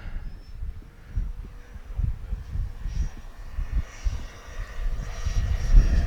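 A Freewing Vulcan 6S RC jet roars past in gusty wind at full speed, its engine rumble building and swelling toward the end over heavy low wind buffeting, with no talk.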